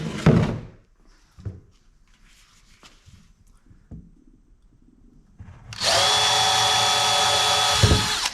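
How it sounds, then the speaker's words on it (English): A power drill boring a pilot hole for a fuel tank mount on a heater build, a loud steady whine running for about two seconds near the end, preceded by scattered thunks and handling noises. "I'm gonna go ahead and start a pilot hole."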